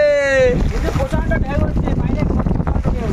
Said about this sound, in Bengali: বিশাল ঢেউ হচ্ছে